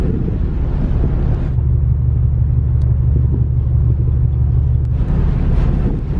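Heavy, continuous low rumbling of many vehicles at Batangas Port fills the scene, loud and close with a thick droning engine tone and some wind buffeting, no talking.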